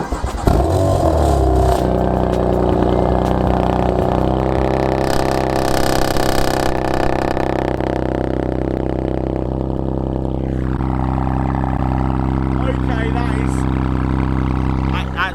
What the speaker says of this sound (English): let's do an obligatory cold start of a car that I haven't driven in a week and a half